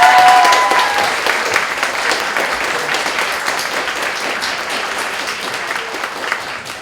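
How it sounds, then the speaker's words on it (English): An audience at an evening bookstore reading applauds warmly, steady dense clapping from a roomful of people that gradually tapers off. "Usually when I talk about books in a classroom, I don't get applause."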